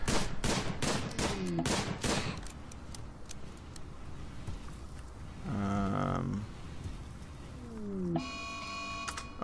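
Gunfire during a pirate raid in the video game RimWorld, with rapid bursts of shots at the start and scattered single shots, mixed with game sound effects and tones.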